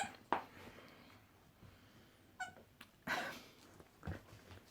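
A puppy whimpers and yips in a few short, close bursts, wanting to play during a quiet indoor moment, with soft breathing between the cries.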